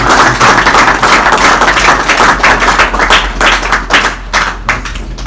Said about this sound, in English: Please, a warm applause for him.